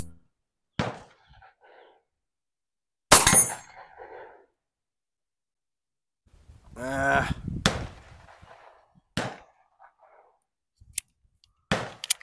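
Tisas 1911 Carry B9R 9mm pistol firing Buffalo Cartridge Company ammunition, a few sharp loud reports spaced irregularly with quiet handling gaps between them and no talk.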